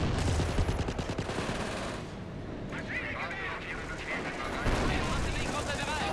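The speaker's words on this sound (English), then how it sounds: "I'm just artillery their base if I can." An artillery barrage pounds an enemy base in Company of Heroes, with a dense, continuous rumble of booming blasts and gunfire rolling loud throughout and a voice talking over it.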